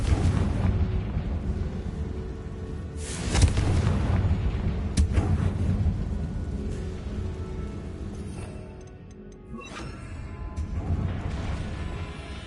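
A Confringo spell bursts in Hogwarts Legacy with a heavy boom near the start, followed by rumbling, crackling debris and rolling game ambience that fades before a second swell.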